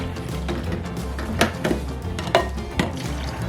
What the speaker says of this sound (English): Okay, I just stir this up.